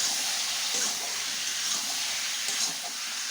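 Chicken hits a hot pan and sizzles loudly and steadily, a dense, even hiss that holds for the whole stretch without pause or talk.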